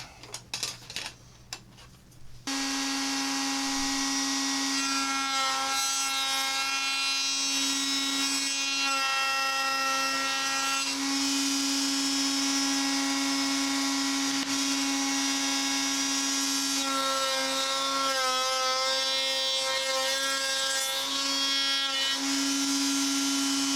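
A router fitted with a half-inch bearing bit cuts wood trim for a custom window shelf, a loud steady high whine with a strong tonal drone that runs continuously after a quiet start, shifting slightly in pitch as the cut loads.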